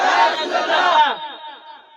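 A crowd at an Islamic religious gathering roars back a loud chanted response to the Nara-e-Takbeer slogan, a massed shout of many voices that swells briefly and then fades out.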